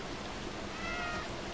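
A cat in the game Stray lets out a brief, thin meow over a soft, rain-like background hiss, faint and short.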